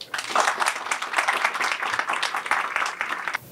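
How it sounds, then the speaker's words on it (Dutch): Applause from an audience at a school event marking a school renovation, dense steady clapping filling the room for a few seconds and then cutting off. "Graag een applaus."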